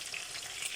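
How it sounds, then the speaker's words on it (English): Meat sizzling and frying in hot oil with onion for Nigerian jollof rice, a steady close crackling hiss throughout the short stretch. "So while the meat is frying"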